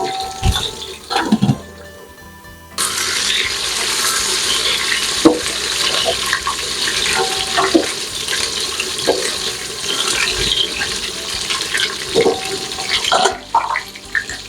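Eggplant frying in hot oil in a pan. After a few seconds of light clatter, a loud, steady sizzle starts and carries on, broken by occasional utensil knocks.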